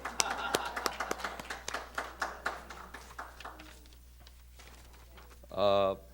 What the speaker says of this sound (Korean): 임숙희 권사님에게 박수, 뜨거운 박수를 드리겠습니다